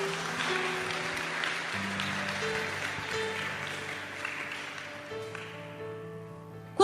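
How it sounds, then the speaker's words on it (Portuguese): A church congregation applauds in a steady, moderate wash of clapping beneath sustained organ or keyboard chords, fading slightly toward the end. "Aplauda Ele"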